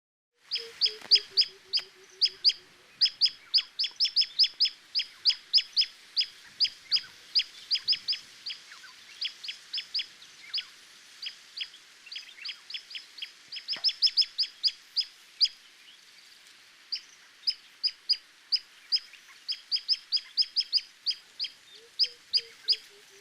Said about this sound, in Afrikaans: Byvreter.